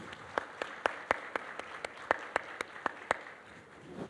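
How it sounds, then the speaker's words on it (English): Scattered audience applause for mothers at a talk on pregnancy and motherhood, a handful of distinct claps at an uneven, sparse rhythm, fairly faint and heard without talk. "So I think all the mothers sitting out here also deserve a round of applause."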